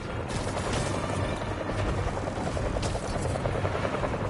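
A helicopter in the Spider-Man 2 video game gives a loud, constant rotor chop and engine roar that fill the whole stretch at close range, with no talking over it.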